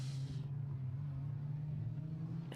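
A rally car on a special stage of the SMC Stages Rally, a Protyre Circuit Rally Championship round, roars steadily close by, its engine a sustained low drone that fills the whole moment without any talk.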